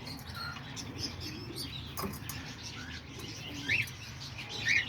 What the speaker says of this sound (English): These are all the cockatiels right here.